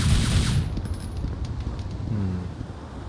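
Gunfire in the Devil May Cry game: a loud, dense burst of rapid shots at the start, then a steadier rattle of fire and rumbling effects that continues to the end.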